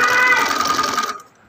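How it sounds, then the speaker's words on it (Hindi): A sewing machine stitches lace onto a sleeve, a loud, close, fast whirring hum that runs steadily and then stops abruptly. "अभी जो है ना मैं इसकी सिलाई कर रही हूँ।"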